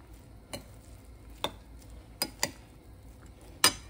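Onion and coriander are folded into corn chaat with a few sparse spoon clicks and light scrapes against the bowl, quiet with near-silent pauses between strokes and no talk.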